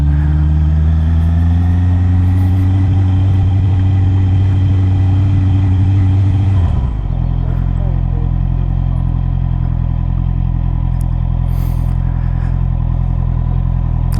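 Honda CB650R motorcycle engine idling loud and close, a steady rumble that drops to a lower, rougher tone partway through as the bike is parked.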